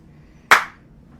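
One sharp hand clap rings out alone against near silence, with a quick bright decay.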